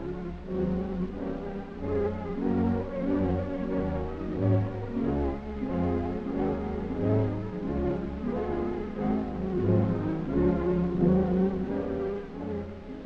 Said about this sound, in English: the plane dives for speed